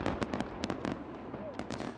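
New Year fireworks display: a quick run of sharp, loud bangs and crackling bursts, several in two seconds, over a steady background of crowd noise.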